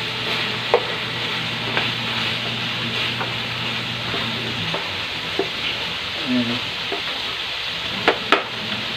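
Beans and snow peas (chicharo) stir-frying in a pan, a steady hiss of sizzling oil broken by scattered scraping knocks of the spatula, close and fairly loud with no talking.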